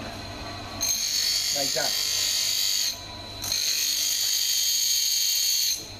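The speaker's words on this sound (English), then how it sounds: "I want to trim my tray at a 90-degree angle to the trimming head" A dental trimming tool with a high-pitched whine grinds a dental tray against its trimming head in two long bursts with a short pause between, while a person speaks briefly.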